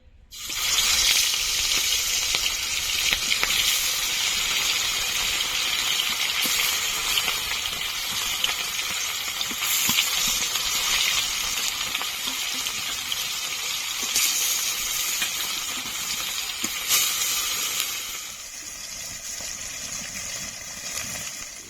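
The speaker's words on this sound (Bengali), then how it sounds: "তেল গরম হয়ে গেছে মাছগুলো দিয়ে দেবো" Rui fish pieces rubbed with salt and turmeric fry in hot oil in a kadai, giving a loud, steady crackling sizzle that runs the whole time and eases slightly near the end, with no talking.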